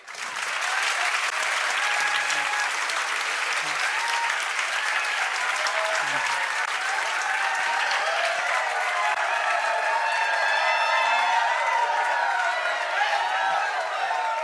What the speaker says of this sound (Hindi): तो इसलिए जोरदार ताली बजा दो।